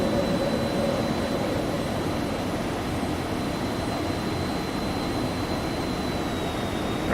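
Twin jet engines of a Phenom 300 in X-Plane 12 drone steadily just after takeoff, a constant loud rumbling roar with a thin high whine running through it.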